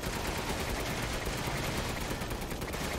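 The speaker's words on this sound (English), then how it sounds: "I'm having so much fun with this machine gun" Rapid, sustained machine-gun fire in the video game Resident Evil Village, loud and continuous bursts filling the whole stretch with no talking.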